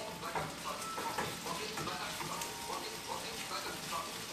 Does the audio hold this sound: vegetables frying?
yes